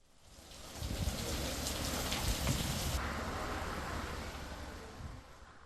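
Heavy rain pours during a storm, a dense steady wash that swells up quickly and stays strong, with no voices over it.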